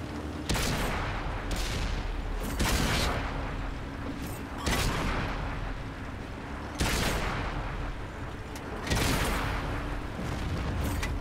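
A T71 light tank in World of Tanks unloads its autoloader clip, a run of five loud booming cannon shots spaced about two seconds apart over a constant engine rumble.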